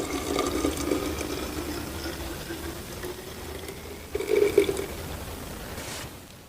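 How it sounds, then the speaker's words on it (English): Near-boiling water pours into a container for hot chocolate in a soft, steady trickle, faint and close, with a brief louder splash near the end. "I add the water at this point."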